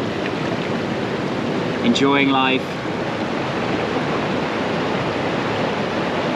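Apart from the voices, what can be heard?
waterfall at Hampi, India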